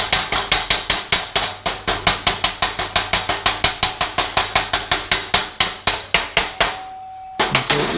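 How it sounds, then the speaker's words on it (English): A hammer chips slag off a fresh MIG or stick weld bead with a steady run of sharp, close metallic taps, roughly four per second, that stop briefly near the end before a final strike. "you do have your weld helmet down while you're chipping that slag"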